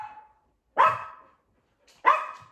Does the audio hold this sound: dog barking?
yes